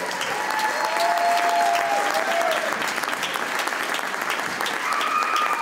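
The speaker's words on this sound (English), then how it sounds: "So all of you guys need to give yourself a round of applause" Audience applause at a charity gala grand finale, a dense, steady wash of clapping from a large crowd that holds throughout, with faint voices mixed in.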